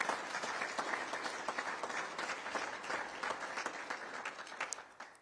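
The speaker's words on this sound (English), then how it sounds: "Can we get a round of applause" An audience applauds at an Oklahoma grant announcement by Governor Stitt, a steady wash of clapping that slowly thins and fades toward the end.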